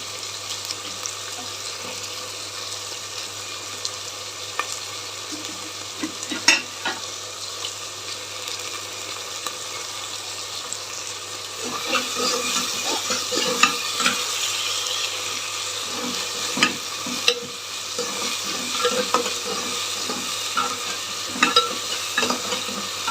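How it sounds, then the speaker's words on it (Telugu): Sliced onions frying in a pan for a spiced okra curry, a steady sizzle with frequent stirring clatter, louder and busier in the second half, no talking. "ఆనియన్స్ కూడా వేపుకోవాలి"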